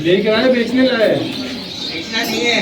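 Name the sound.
home-bred pigeons cooing at a bird market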